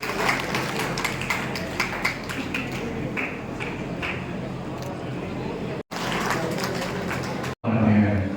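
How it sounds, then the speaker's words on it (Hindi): An audience claps at a community talent award ceremony, a dense crackle of many hands with a few sharper claps early on, broken by two brief drops before the end; voices may sound beneath it. "नगद इनामों की जगह सानिया के लिए जोरदार तालियां"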